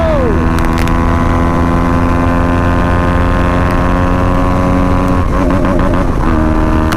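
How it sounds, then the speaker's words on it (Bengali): A motorcycle engine revs hard at high RPM on a group ride, its loud steady roar holding near throughout with shifting harmonic pitch and a rough surge toward the end, no talking heard. "আরপিএম এর সাউন্ডটা ভাই খতরনাক লেভেলের লাগে"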